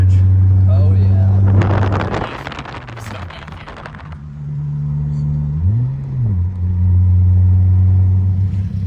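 A Toyota Celica drives with a steady low engine hum and pitch swoops as it revs, while a burst of harsh scraping noise rises from underneath for a couple of seconds, close to the car.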